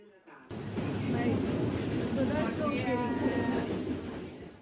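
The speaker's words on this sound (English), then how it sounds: "the best way to get around Milan is via tram" A Milan city tram rumbles along steadily with a low continuous drone, wheels on rails and some faint squeals, while people talk over it.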